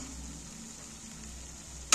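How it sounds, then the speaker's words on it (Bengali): Chili and turmeric masala fries in oil in a kadai, giving a soft, steady sizzle close by, with a sudden scrape or clatter at the very end and no talking. "দেখো মশলাটা লঙ্কা হলুদ যেসব দিয়েছি পুরোটাই ভাজা ভাজা হয়ে গেছে।"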